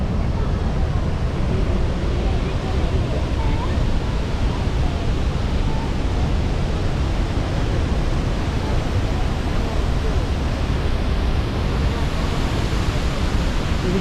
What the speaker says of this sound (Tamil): அருவியை பாருங்கள் எப்படி இருக்குன்னு.